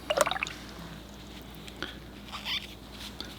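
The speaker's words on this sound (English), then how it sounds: "I might rinse off my brush" A watercolor paintbrush is rinsed in a jar of water after still-life painting, giving a quick cluster of close dripping, trickling splashes at the start, then a couple of fainter watery sounds later.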